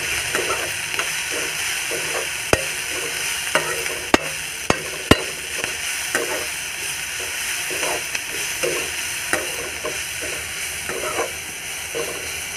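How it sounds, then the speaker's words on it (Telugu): Rice being stirred and fried with cumin in a pan: a constant bright sizzle with a regular rhythm of scraping and occasional sharp clacks of the utensil, close and alone. "అటు ఇటు కలిపి జీలకర్ర వేసి"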